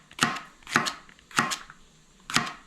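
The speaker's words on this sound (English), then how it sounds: "We'll just cut up these chilies and we'll sprinkle it on top once it's done." A knife chops mild chilies on a cutting board in a kitchen, giving four close, crisp strikes in an uneven rhythm with no talking.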